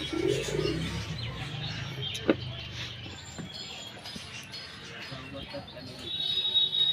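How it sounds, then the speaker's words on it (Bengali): Soft pigeon coos murmur on a rooftop near the start, followed by quieter outdoor ambience with faint chirps and occasional small knocks. "দেখো ছাদে ছেড়ে দিলাম আজকে আমাদের কবুতরগুলো"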